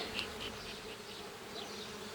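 Honey bees buzzing inside an open hive frame with drone brood, a dense, steady, fairly faint hum of many insects close by, no voices.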